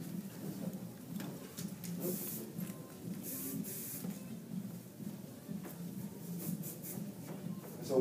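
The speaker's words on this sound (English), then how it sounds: "Yeah, we're going to spray it up." Hairspray from an aerosol can is sprayed onto hair in a salon, giving several short hissing bursts over a low, steady room rumble.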